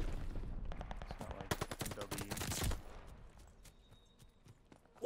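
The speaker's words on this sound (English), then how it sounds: "those are pristine shots from range" Rapid automatic gunfire in the online shooter Call of Duty: Vanguard, dense bursts of shots that peak mid-clip and then fade to quieter background noise.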